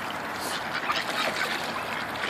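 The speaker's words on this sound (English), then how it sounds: "We have our own posse of ducks." Ducks quacking at a park pond during feeding, a scattering of fairly faint, overlapping calls from a small group over light outdoor background noise.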